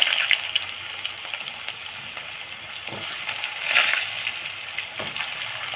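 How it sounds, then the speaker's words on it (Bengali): Cut potatoes frying in hot oil with bay leaves and cumin, a continuous soft sizzle and crackle close by with faint clinks, heard alone without talk. "আলুটা ভাজা হয়ে আসছে"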